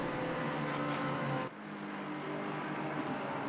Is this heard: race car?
yes